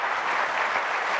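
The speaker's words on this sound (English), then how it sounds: "Big round of applause." Brief burst of dense audience applause in a talk setting, steady hand-clapping from a large crowd filling the whole moment.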